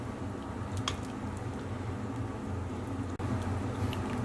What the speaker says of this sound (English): so just stir that around well.